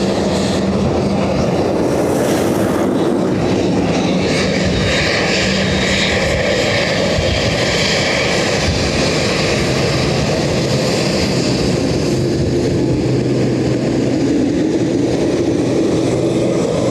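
Loud, close aircraft engine roar as a plane lands on runway 28 left at Dublin Airport, a continuous heavy rumble with shifting whine that holds throughout.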